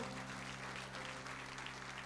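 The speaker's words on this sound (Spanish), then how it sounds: "Démosle un fuerte aplauso al Señor." A church congregation applauds during an evening Spanish-language worship service. The clapping is steady but faint and distant, over a low electrical hum.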